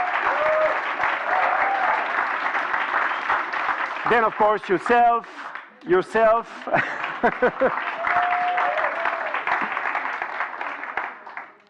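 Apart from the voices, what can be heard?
applause for the young volunteers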